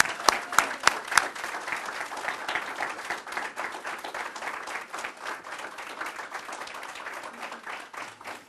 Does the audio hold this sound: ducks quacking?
no